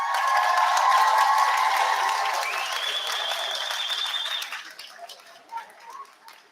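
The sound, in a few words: graduation audience giving a round of applause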